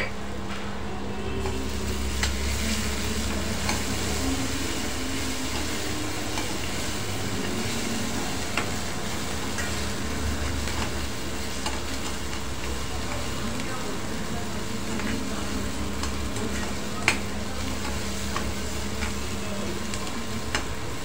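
Tomatoes with a little salt cook down in a pan for a spicy farsan bhaji, giving a steady low sizzle and frying hiss that runs evenly throughout with a few faint clinks.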